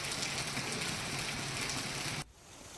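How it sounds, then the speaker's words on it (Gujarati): A dense monsoon downpour hisses steadily, then cuts off abruptly near the end, leaving quieter background noise. "જાફરાબાદ શહેરમાં ધોધમાર વરસાદ જોવા મળ્યો"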